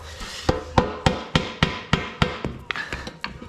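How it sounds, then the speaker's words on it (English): A hammer strikes a part of a three-piece SSR car wheel during disassembly, about a dozen sharp metallic blows in a steady, quick rhythm, close and clear. "Hammer it."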